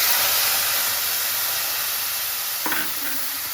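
Spices sizzle loudly in oil in a pan, a broad steady hiss with a brief stir or clink near the end as a little water is added.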